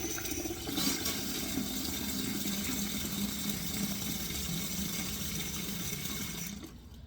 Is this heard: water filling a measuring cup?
yes